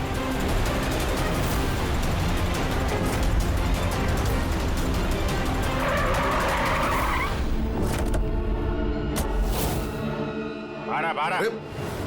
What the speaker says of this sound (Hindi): वो रही कार।